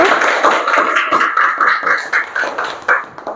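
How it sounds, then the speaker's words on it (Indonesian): Students in a classroom clapping for a group's score, a loose, uneven patter of a modest number of hands close by, with irregular bursts and no talk. "Ya, tepuk tangan dulu."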